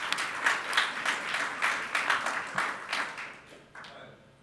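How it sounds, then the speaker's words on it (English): An audience at a malignant mesothelioma symposium gives a short round of applause, dense clapping that fades out over a few seconds. "So I just want to give a round of applause to all of our partners without whom we couldn't do this."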